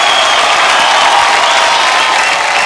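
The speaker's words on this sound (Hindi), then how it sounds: "एक बार जोरदार तालियां हो जाए आप सबके लिए।" A studio audience applauds loudly on the set of a comedy talk show, a thick, even wash of clapping that carries on steadily from start to end.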